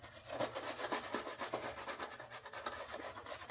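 Soap is rubbed into a wet lather, a steady rhythmic scrubbing and rasping with soft wet strokes repeating several times a second, close and quiet, no talking.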